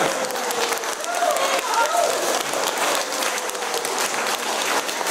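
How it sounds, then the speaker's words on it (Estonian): An audience at a singing concert applauds the singers: dense, steady clapping from a sizeable crowd fills the whole stretch, loud and continuous. "No teeme aplausi laulajatele!"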